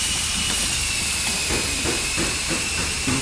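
A train releases a loud, continuous hiss of steam over a low rumbling rail background, steady throughout with no speech.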